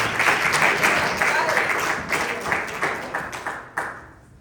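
A church congregation applauds during a Bible study, a dense round of clapping that stays steady and then thins into a few scattered claps before fading.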